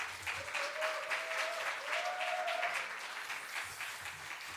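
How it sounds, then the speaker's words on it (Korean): A crowd claps steadily in a large church hall during a Korean Friday revival service, a dense, even patter of applause that continues throughout without anyone speaking. "나오실 때 큰 박수로 맞아주시기 바랍니다"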